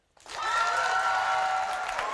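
A television talk show studio audience bursts into applause after a brief silence, a full, steady wall of clapping that holds at a constant level to the end.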